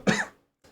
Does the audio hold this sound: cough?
yes